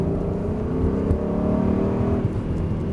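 A car accelerating out of a wet corner on a track, a close, steady engine drone that rises slightly in pitch as it pulls away, heard alone without talk.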